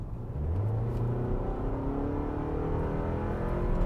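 A 2021 Toyota RAV4 SUV engine revs up hard, its droning pitch rising steadily as it accelerates, loud and close from inside the vehicle.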